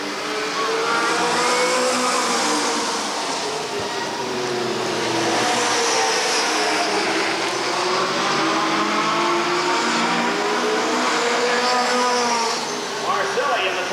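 Race cars circling the Redwood Acres Raceway oval, engines droning and swelling in pitch as they run nose to tail, continuous and fairly loud with no break.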